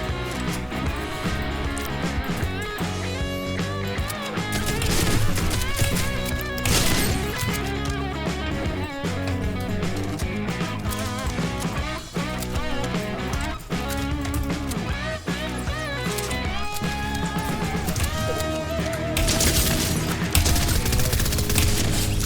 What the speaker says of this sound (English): no rapid fire SMG for you today